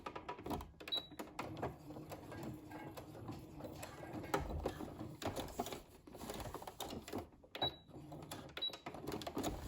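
A home sewing machine stitching a fabric face mask around its last corner with the bobbin running low, giving a close, rapid mechanical clatter in uneven bursts that slow and restart.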